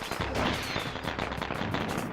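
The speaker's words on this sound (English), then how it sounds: "you can set off the fireworks everywhere, and that's fun" Fireworks going off in the Sly Cooper video game: a rapid, dense crackling burst of sharp pops and bangs, loud and close, rattling on continuously without pause.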